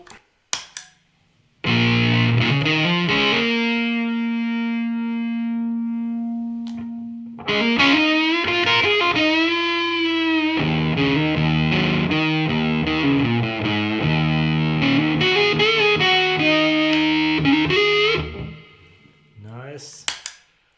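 An electric guitar through a Big Muff fuzz pedal rings out in thick, saturated sustained notes and bends, long held tones with a brief break between phrases, loud and close.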